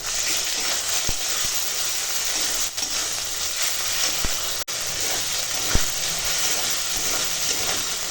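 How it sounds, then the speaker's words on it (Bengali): Spice paste with green chili, turmeric, tomato and salt sautéing in a pan, a steady loud hiss and sizzle running throughout with a few brief knocks. "কাঁচা লঙ্কার কুচো হলুদের গুঁড়ো দিয়ে স্বাদ মতো লবণ দিয়ে একটু কষাবো"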